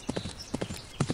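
Horse hooves clip-clop in the video game Die Pferdebande, a quick rhythmic run of hoof strikes in short clustered bursts, fairly close and clear, with no talking.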